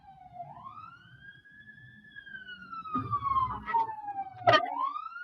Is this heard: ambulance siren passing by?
yes